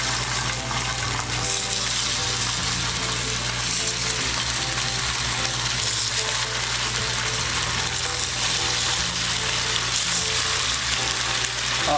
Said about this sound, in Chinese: 好，萝卜糕刚下锅